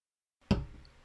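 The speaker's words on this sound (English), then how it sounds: "There it is slamming on the desk." A 5-hour energy bottle slammed once onto a desk, a single sharp, close knock with a brief ringing tail fading into quiet.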